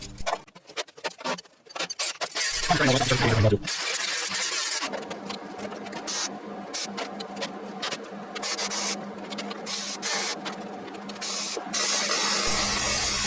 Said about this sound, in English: I'm just putting a few inches of weld spaced out because I don't need a solid weld, I just need this to hold in place.